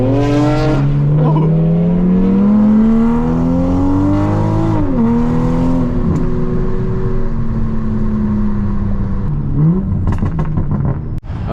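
A Ford Mustang rolls into a car meet, its engine note climbing steadily in a loud, close rev before dipping and settling into a rumbling idle, with a final sharp blip near the end.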